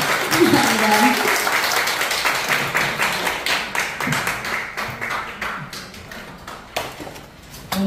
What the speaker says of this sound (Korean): 우리 다시 한번 박수로 감사합니다